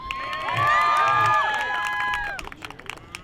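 A comedy show crowd gathered in a backyard erupts in loud cheering and shouting, with some applause mixed in, swelling quickly and then breaking into scattered claps and calls as it fades.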